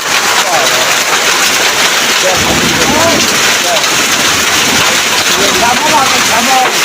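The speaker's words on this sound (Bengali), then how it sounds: "শিল করতেছে, এত পরিমাণ ভরে যাচ্ছে" Heavy hailstorm with rain pounding down, a dense loud roar of impacts on surfaces with people talking over it.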